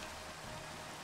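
Steady rain falls in a Minecraft world, an even hiss of drops with no breaks, quiet and continuous.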